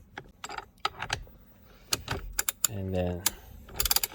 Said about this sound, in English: for this you'll be needing a 19mm socket, and then I'm using an extension